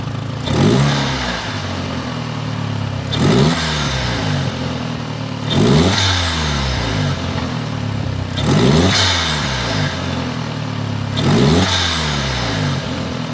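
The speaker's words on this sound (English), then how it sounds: "gonna start the car and just see if this makes any sort of difference in the noise" Audi TT engine fitted with a cheap £20 aftermarket induction kit, revved hard five times in a steady rhythm, each rise to a loud roaring peak falling back to idle, close by with no talking.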